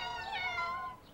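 A cartoon kitten gives a single high, drawn-out meow, clear and close, lasting about a second over quiet background.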